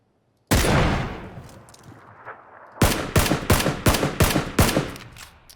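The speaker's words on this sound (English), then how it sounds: "We heard gunshots over this way as well" PUBG gunfire: a single sharp shot rings out with a fading echo, then after a pause a rapid string of about seven close, punchy shots follows in quick succession.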